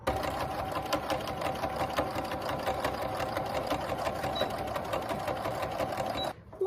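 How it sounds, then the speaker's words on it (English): A sewing machine stitches a straight seam on a small fabric cat toy, a fast steady mechanical rattle running close and loud for several seconds before stopping abruptly. "all that's left is to turn in the end and sew a straight line"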